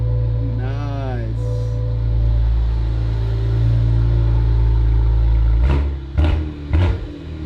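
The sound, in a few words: 2023 Cadillac CT4-V Blackwing engine running in loud exhaust mode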